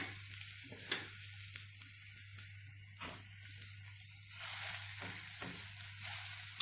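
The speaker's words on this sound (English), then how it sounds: "Let that butter melt in." Butter melting in a pan over very low heat, a soft steady sizzle and hiss close by, with a few light taps and stirring sounds and a constant low hum beneath, no talking.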